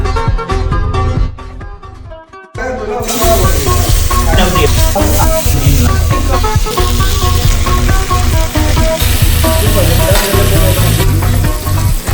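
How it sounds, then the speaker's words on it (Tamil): Fish fries in hot oil in village style, bound for a rustic fish fry and curry; a loud, dense, steady sizzle bursts in after a brief dip near the start and carries on without a break. "மீனை வறுத்த மச்சான்"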